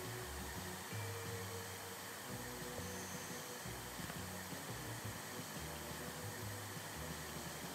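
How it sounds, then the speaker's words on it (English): Steady whirring drone of a vacuum cleaner in the video game House Flipper 2, continuous and moderately loud with a low rumbling hum underneath, no talking over it. "Vacuum. The dog's scared of the vacuum."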